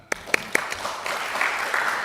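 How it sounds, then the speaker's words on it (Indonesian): At an Indonesian parliamentary commission hearing with advocates, a few loud, distinct claps ring out close by, then a small room's applause builds into a quicker, fuller patter. "kita kasih tepuk tangan"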